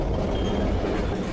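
A train rumbles past in the zombie survival game Zompiercer, a dense, loud, low rolling roar holding steady through the brief moment.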